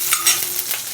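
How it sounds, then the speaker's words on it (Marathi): Onion sizzles in hot tempering oil with mustard seeds for Bhogichi Bhaji, a close, loud hiss broken by small crackles and a soft stir; no talking. "फोडणीला कांदा असा आपण भाजून घेऊया."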